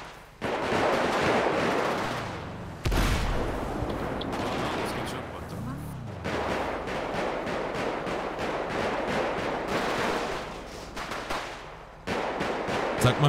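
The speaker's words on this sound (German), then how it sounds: "Wer schießt gegen wen?" Video game gunfire in a street scene, dense bursts of rapid shots and booming blasts that keep going almost without a break, loud and close, with brief gaps between volleys.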